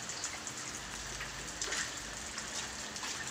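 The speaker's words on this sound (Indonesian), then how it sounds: "ini sedang hujan ya guys, kameranya jadi agak terganggu ya" Steady rain patters onto a fish pond used for raising gourami, a dense, even hiss of drops with a few slightly louder splashes, close by and without voices.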